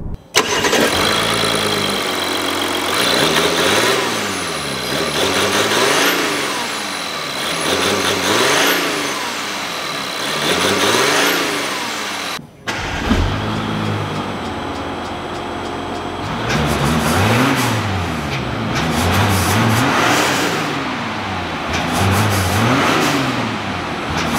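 A 2022 Audi A7 45 TDI quattro with a 3.0-litre V6 turbodiesel fires up and revs, rising and falling in repeated throttle blips. A brief cut midway leads into more revving, loud and close, with no talking.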